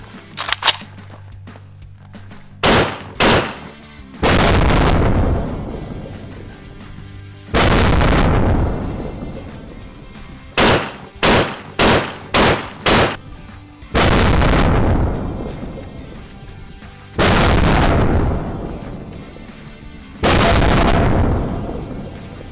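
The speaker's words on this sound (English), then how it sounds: "let's shoot it. We're gonna do this AK." Loud AK rifle shots fired at body armor, a single early shot then groups of rapid reports, with a few sharp snaps between them and each blast trailing a short ringing decay, nearby and outdoors.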